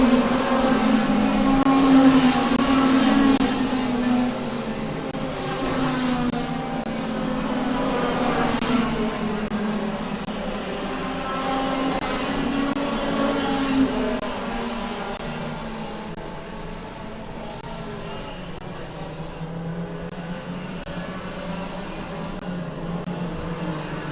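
Race cars at the CPKC Wessex Challenge sweep past the line together, a sustained engine roar with rising and falling pulses as each car goes by, loud at first and easing slightly toward the end.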